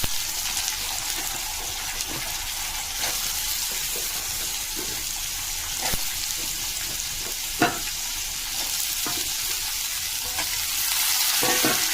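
Potatoes and garlic frying in a pan, with a steady sizzle throughout and occasional stirring clatters and scrapes, fairly close and with no talking.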